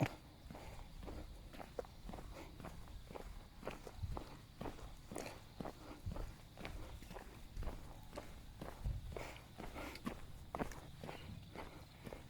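Footsteps walk steadily along a hilltop trail at Phu Thap Boek in Thailand, the regular close treads continuing for the whole stretch with faint outdoor ambience and no talk.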